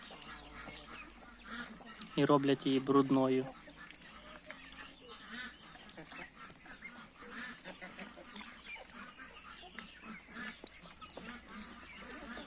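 Heavy-line German-bred muscovy ducks with ducklings on a poultry yard; a short burst of loud honking calls stands out briefly among quieter yard sounds, with a person talking.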